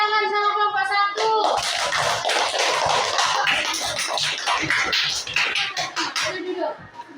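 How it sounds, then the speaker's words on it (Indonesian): Children in a classroom break into a burst of clapping for group 1 just after a brief spoken line, and the applause stays dense and steady for about six seconds before thinning out. "beri tepuk tangan sama kelompok 1"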